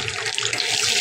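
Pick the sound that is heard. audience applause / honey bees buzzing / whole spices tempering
whole spices tempering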